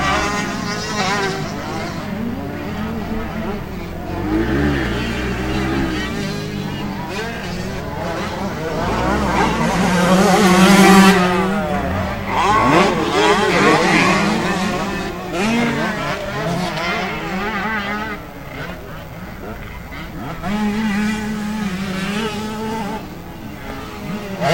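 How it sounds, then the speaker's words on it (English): A high-revving 125cc two-stroke motocross motorcycle racing at a July meet, its crisp, buzzing engine note rising and falling through gear changes as bikes pass, loud and continuous for the full length. "The crisp, clean sound of a high, strong 125 two-stroke."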